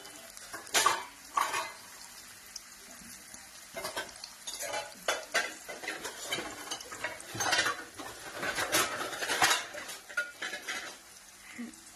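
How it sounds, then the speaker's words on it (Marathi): Onion fries in hot oil in a pan at home, a crackling sizzle broken by repeated loud scrapes and clanks of a spoon against the metal pan, close and busy throughout. "पण मी टाकलं आता त्यात कांदा"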